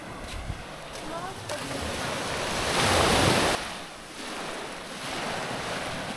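Strong ocean surf washes in steadily at a Pangasinan beach, a broad roar swelling to a louder crash midway, with wind buffeting the microphone throughout.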